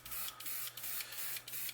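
Aerosol bursts of crackle medium paint sprayed onto a crankbait lure in a paint booth, four or five short hissing pulses in a steady rhythm, close and fairly loud.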